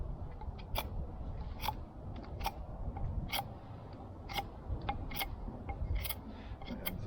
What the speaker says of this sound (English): I am just going to take a couple of minutes here just to kind of smooth it off a wee bit with my knife